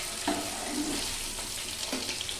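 Chitol fish dumplings (muitha) frying in oil, a close steady sizzle with a few scraping turns of a spatula, no voices.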